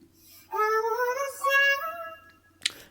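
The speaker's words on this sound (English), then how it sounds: "So then we pitched it up using this AU new pitch, up 700 cents from the original" A vocal sample pitched up seven semitones in Logic Pro X sounds as a thin, high, sliding chipmunk-like melody of a few gliding notes, followed by a short breathy burst, close with no talking.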